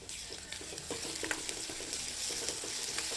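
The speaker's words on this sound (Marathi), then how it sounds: "हा कांदा आणि लसूण कोथिंबीरीची पेस्ट परतून घेणार आहे" Onion with a garlic-coriander paste sautéing in hot oil for a drumstick vegetable dish: a steady bright sizzle with scattered stirring scrapes and clicks throughout, fairly close and with no talk.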